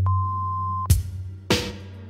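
An answering machine sounds its message tone: one steady, clear beep lasting nearly a second, then two sharp, heavy thumps spaced about half a second apart.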